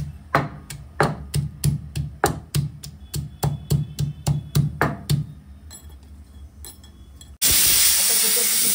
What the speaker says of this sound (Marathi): आता कुकरची शिटी झाली